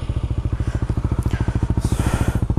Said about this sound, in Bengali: থাইল্যান্ড ভার্সন বাইকটার সাউন্ডের পার্থক্য হচ্ছে, আমি যদি স্টার্ট দিই